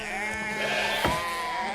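A single sheep bleats once, a drawn-out wavering call heard close and clear over quiet background.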